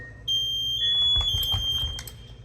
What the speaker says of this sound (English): you're going to hear some ascending and descending beeps